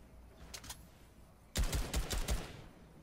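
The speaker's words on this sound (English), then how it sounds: "Green suppressed pistol." A green suppressed pistol in Fortnite fires a rapid burst of muffled, snappy shots, about five or six in quick rhythm, loud and close, after two fainter shots earlier.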